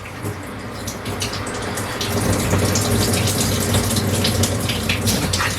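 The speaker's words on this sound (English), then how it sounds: "We'll drain the water from last night." Water pours and splashes steadily as it drains from a wheatgrass seed sprouting jar, a continuous gushing that grows slightly louder partway through, close by with no talking.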